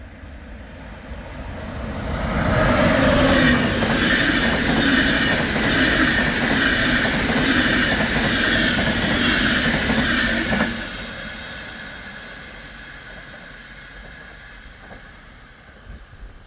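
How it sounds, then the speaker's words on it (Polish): An EIC Kaszub express train passes through Miechów station without stopping, rising from a distance into a loud, steady rumble of wheels and carriages for several seconds, then fading away as it departs. "EIC Kaszub w przelocie"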